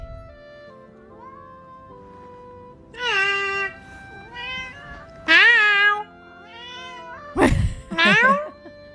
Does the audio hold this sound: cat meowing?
yes